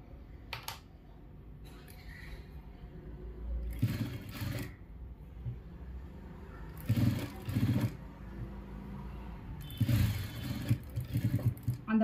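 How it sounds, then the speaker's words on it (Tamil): A sewing machine stitches along readymade piping on fabric in several short bursts, each a close mechanical whir separated by pauses, without talk. "அந்த பைப்பிங் ஒட்டியே வந்துட்டு தையல் போட்டுட்டு வரலாம்."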